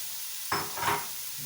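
Minced meat and tomato for aloo keema sizzle in a pan, with a brief, soft scrape of stirring rising over a faint steady frying hiss.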